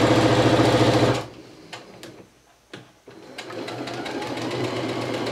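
A sewing machine stitches fabric for a round tablecloth with a fabric border, running fast and loud at first, then halting into quiet with a few clicks before resuming at a steadier, softer pace.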